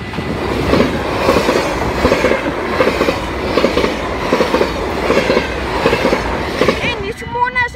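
Train rolling past on rails in Sint Joost, a steady rumbling clatter of wheels with rhythmic clicks over the joints, close and loud throughout before easing at the end.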